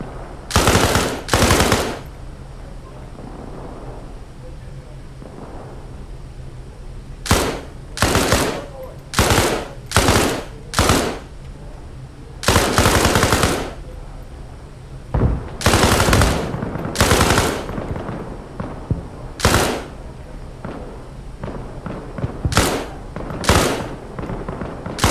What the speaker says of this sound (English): It's a weapon, LMG.